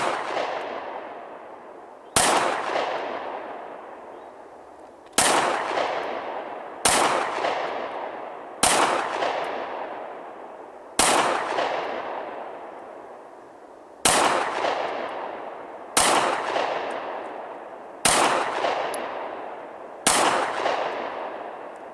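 Nine sharp SIG P365 pistol shots fired at steady intervals of roughly two to three seconds, each a loud crack with a ringing decay, with no talk between them.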